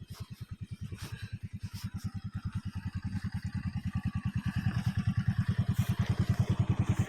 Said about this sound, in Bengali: বাইক যাওয়ার জন্য এই রাস্তাটা খুবই টাফ।